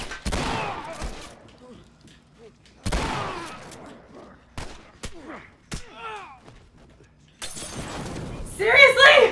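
Enemy gunfire in the video game The Last of Us, with loud sharp shots and bursts in short clusters, a shattering crash near the end, and a player's voice reacting between them.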